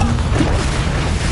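Confringo spell blast in Hogwarts Legacy, a loud dense booming explosion filling the short moment with rumbling low-end noise and no clear gaps.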